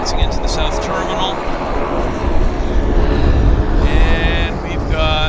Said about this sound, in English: We got a Pacific Coastal taxiing into the South Terminal.